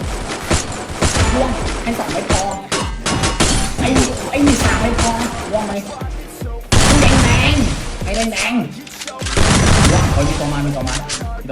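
Gunfire in the Free Fire battle royale game, dense rapid bursts and booms of loud shooting nearly continuous throughout, with brief gaps, mixed with game effects and a player's voice talking over it.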